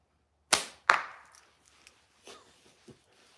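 A slingshot firing ammo: two sharp snapping releases in quick succession, each followed by a fading whoosh, then a few faint ticks and knocks.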